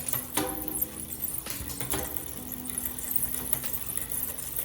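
Bicycle drivetrain spinning on a workstand as the gears are shifted for a tune-up, a steady close whir of chain and cogs with small clicks and a few sharper ticks.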